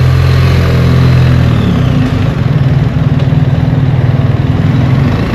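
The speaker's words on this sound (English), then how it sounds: "people don't like the exhaust, the way it sounds, but I have stock exhaust" BMW 1300 GS Adventure motorcycle with its stock exhaust, a steady low engine drone that holds loud and close throughout, with a slight rise and fall in pitch partway through.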